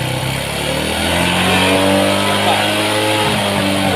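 A Honda Supra X 125 motorcycle engine revs up and holds at high speed after an air setting adjustment, a loud, close, steady mechanical drone rising in pitch.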